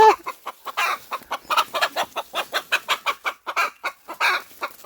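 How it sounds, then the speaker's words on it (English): A farm hen tucked away from the coop on a hidden clutch of eggs clucks close by in a steady run of about twenty short, sharp clucks with no talking. "Oh my god, there's a chicken."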